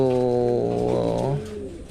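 Low, rounded cooing from a dove or pigeon, a steady repeated call lasting almost two seconds, close and fairly loud.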